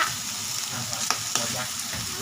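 Pork sizzles steadily in hot oil on a Thai mu kratha grill, a continuous crackling hiss with a couple of sharp pops of splattering fat.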